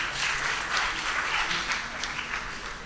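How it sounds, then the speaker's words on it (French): Steady audience applause at a spelling championship evening, a dense wash of many hands clapping at moderate loudness with no voices over it, holding fairly even throughout. "On applaudit très fort pour lui."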